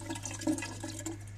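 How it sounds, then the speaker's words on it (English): A 1940 Standard urinal with a self-closing valve gives a faint, brief partial flush, a soft trickle and splash of water over a steady low hum. "the urinal is never given a thorough flush. It's just usually like this."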